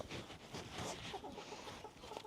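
Chickens cluck softly nearby, a scattered series of short calls over quiet background noise.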